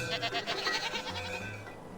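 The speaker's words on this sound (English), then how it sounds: "Got some goats." Goats on a farm in the video game Farthest Frontier bleat in a few overlapping wavering calls, moderately close and fairly quiet, without talk.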